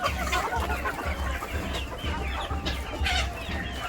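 Village desi chickens on a farm in Nandgaon, Panvel cluck busily and continuously, a close, dense flock chatter with no talking over it.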